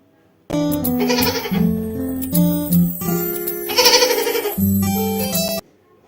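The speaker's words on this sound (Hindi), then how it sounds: "G for goat. Goat यानी कि बकरी." A goat bleats several times in a row, long wavering cries with short gaps between them, close and clear against a quiet background.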